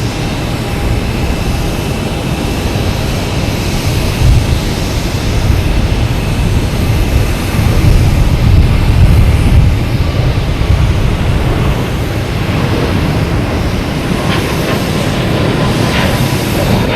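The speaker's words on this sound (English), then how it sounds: "Next to arrive is American Airlines A319 coming in from" An American Airlines Airbus A319 arrives at Boston Logan Airport, a broad, loud roar of jet engines that swells in the middle and then eases, heard from the ground with no talk.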